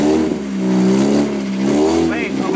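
A stuck, static-slammed Honda Civic revs its engine loudly and close by, a sustained droning rise and fall across a couple of seconds, with voices talking over it.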